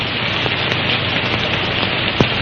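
Steady rain pours down in a dense, even hiss of drops, with a few faint crackles, from an old 1932 film soundtrack.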